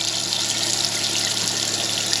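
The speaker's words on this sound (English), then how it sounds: "here we go with the hot water going" Hot water runs from an RV kitchen sink faucet in a steady, loud, close hiss of flowing water with a low pump hum beneath.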